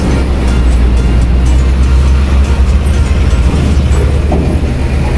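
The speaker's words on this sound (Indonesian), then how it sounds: "Bis 2 holiday, bus pariwisata" A tour bus rumbles past up close, a loud, continuous low engine roar with steady road noise and no break over the whole pass.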